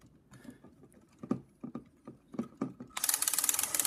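A Lego car's drive motor spins its gears in a sudden burst of dense, fast ratcheting clatter near the end, after a few scattered light clicks and knocks from handling the plastic parts.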